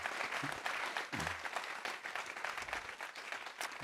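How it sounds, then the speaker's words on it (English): Brief, dense audience applause at a pinewood conference honouring the chair, steady clapping with faint low murmurs underneath. "So a round of applause for Alistair, please."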